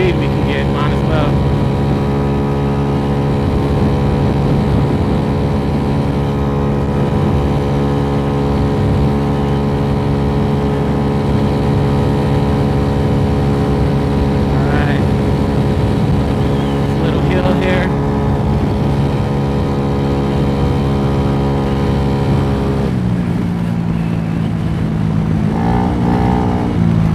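A Venom X18 motorcycle engine drones loudly and steadily while the bike is ridden in the rain at about 45 mph, with heavy wind rush throughout and a shift in engine tone near the end.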